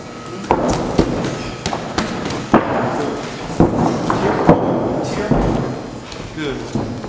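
Punches and body shots land during a boxing sparring session: scattered dull thumps and sharper impacts at irregular intervals over several seconds, heard under a coach's speech and gym background noise.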